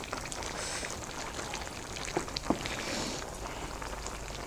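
Beetroot and meat simmer in a pot in their own released juices, giving a soft continuous bubbling and spattering with a couple of brief clinks of stirring near the middle, close and fairly quiet.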